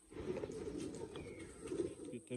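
Deewan Saab breed pigeons coo softly in a loft, low throaty rolling calls repeating close by with some faint chirps mixed in.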